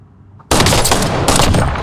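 Loud gunfire in a video game breaks out abruptly after a quiet moment, a dense, fast roar of shotgun blasts held at full level to the end, with no voices.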